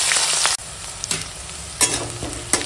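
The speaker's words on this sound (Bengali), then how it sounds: "এখন দিয়ে দিলাম তেজপাতা পাঁচ ফোড়ন আর দিয়ে দেব কেটে রাখা পেঁয়াজ" Bay leaf, panch phoron, chopped onion and green chilli sizzle steadily in hot oil, a dense close-up frying hiss with brief drops and stirring scrapes between bursts.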